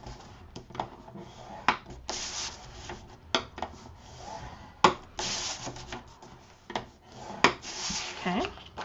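Paper being scored on a scoreboard for a mini album craft project, repeated short scraping strokes with sharp taps and pauses in between, close and fairly quiet.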